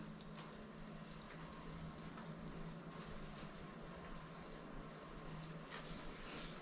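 Tap water runs and splashes steadily during hair washing with a leave-in and primer routine, a continuous close wash of spray and trickle with no voices.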